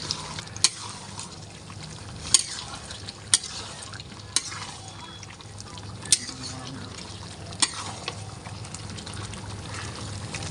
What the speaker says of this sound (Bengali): ভালো করে আলুটার মধ্যে মশলাটা মাখিয়ে নেব।